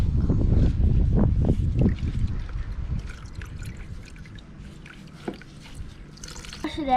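An air filter from a Honda CRF110 dirt bike is washed out in liquid, with close sloshing and squishing for a few seconds that fades to sparse drips and small splashes.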